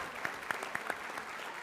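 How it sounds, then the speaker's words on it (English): A small audience at a board of education meeting claps briefly, scattered faint hand claps with a few distinct sharper ones, fairly quiet and distant. "that's the applause time"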